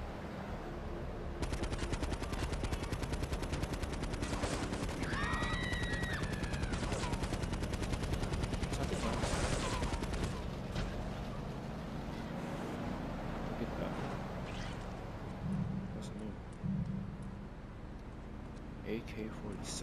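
Rapid automatic AK-47 gunfire in the GTA 3 Definitive Edition video game, long sustained bursts of shots with vehicle engine noise underneath, loud and continuous.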